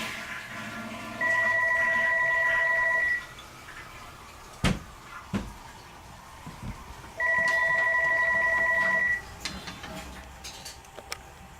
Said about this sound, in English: Joe has just received his phone call.